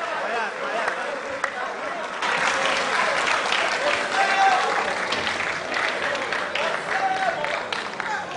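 A crowd at a school mentorship session gives a round of applause welcoming Dr. Richard Bamful, steady dense clapping sustained for several seconds with faint voices murmuring underneath.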